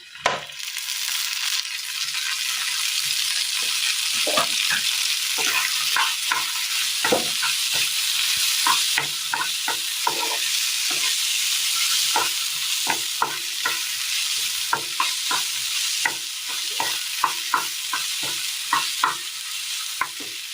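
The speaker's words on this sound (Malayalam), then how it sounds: "ഇനി ഇതിലേക്ക് നമ്മൾ അരിഞ്ഞു വെച്ചിരിക്കുന്ന ചക്ക ഇട്ട് കൊടുക്കാം. ഇതിലേക്ക് ഒരല്പം എണ്ണ ഒഴിച്ചു കൊടുക്കാം." Chopped jackfruit sautés in oil in a pan for a Kerala dish, giving a steady sizzle broken by frequent scraping stirs, close and continuous for about twenty seconds with no one talking.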